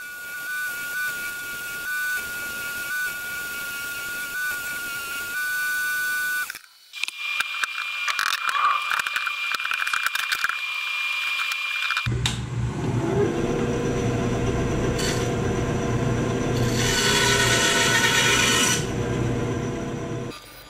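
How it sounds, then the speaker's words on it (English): An electric sander grinds down the edges of a wooden sword handle made from glued 2x4 pieces, a loud, close, continuous whir and rasp that changes tone in several distinct sections as the work shifts. "Then I used the sander to take down the edges."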